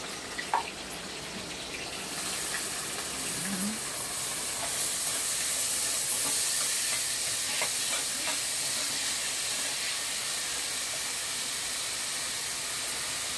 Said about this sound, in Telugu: మెంతులు ఫ్రై అయిపోయిన తర్వాత ఇప్పుడు ఆనియన్స్ వేసుకోవాలి.